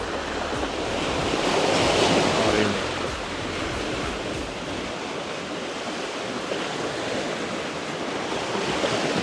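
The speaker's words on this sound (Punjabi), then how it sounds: "ਇੱਥੇ ਬੈਗ ਕੇ ਘੜੀ ਲੈਨੇ ਆ ਲਹਿਰਾਂ ਦਾ ਆਨੰਦ" Ocean surf rolling onto a beach at Turi Beach Resort after rain, a steady broad wash of breaking waves that swells a little early on and then holds even, with wind noise on the microphone.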